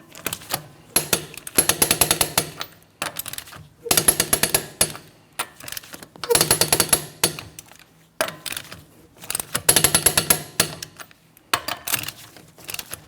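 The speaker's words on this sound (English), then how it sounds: "I'm going to be torquing each one of my lug nuts to that 100 foot-pounds in a crisscross manner." Torque wrench tightening the lug nuts on a 2004-2008 Pontiac Grand Prix wheel in a crisscross pattern, heard as five loud bursts of rapid ratcheting clicks separated by short pauses, close and clear with no talking.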